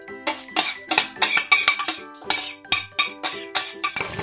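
A spoon stirs Korean-style chicken wing sauce in a bowl with a steady run of close, bright clinks and scrapes at a brisk rhythm, with no voice over them.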